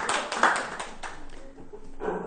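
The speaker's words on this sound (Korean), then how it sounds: "박수 주세요." Audience clapping at a Korean church gathering, a short burst of applause that peaks quickly, then thins out and swells briefly again near the end.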